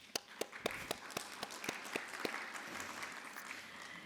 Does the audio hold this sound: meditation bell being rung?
no